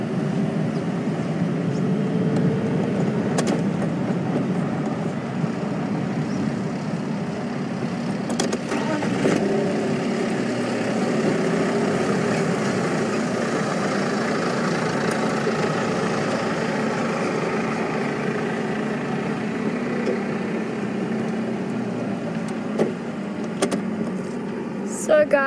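Safari truck engine running steadily as the vehicle moves during an evening game drive near leopards, a continuous low rumble with road noise throughout, with faint speech underneath.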